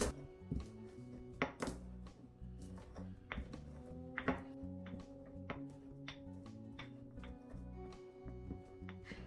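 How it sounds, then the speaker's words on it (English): Pimento grains crushed in a mortar while fish seasoning is being made, heard as a run of sharp, close pounding and grinding knocks in irregular rhythm with a low steady hum underneath. "I'm going to crush the pimento"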